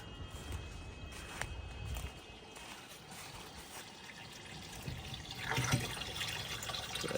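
Maple sap flows fast through a pump outdoors on a windy day, a continuous splashing rush with a brief louder gush near the end and faint background noise.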